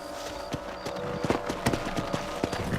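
Horse hooves clip-clop in an uneven trotting rhythm over steady low ambience in Red Dead Redemption, with occasional louder hoof strikes.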